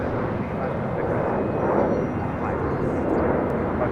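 British Airways airliner arriving at Los Angeles International Airport, a loud, steady jet engine roar with rising whine, heard under faint talk.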